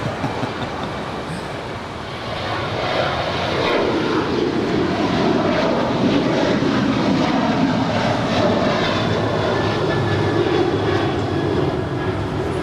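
A jet airliner takes off from runway 25 right at LAX, a broad continuous engine roar that swells and holds steady at a distance, with no talk over it.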